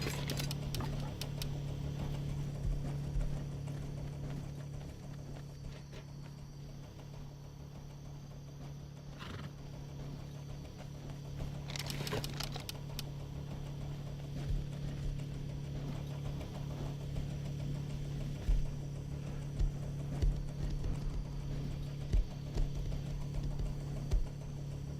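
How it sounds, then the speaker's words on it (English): Hooves of a horse in the survival video game Rust clip-clop irregularly through a steady low hum, with a brief whinny partway through and sharper footfalls clustering toward the end. "Does that horse have to make that much noise?"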